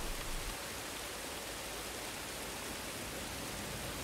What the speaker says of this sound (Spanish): Me relaja mucho el sonido de la lluvia.